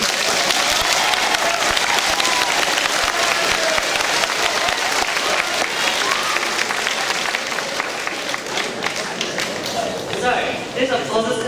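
Loud, dense applause from a school assembly audience at an awards and leadership ceremony fills the whole stretch, with steady clapping throughout and a brief thinning near the end.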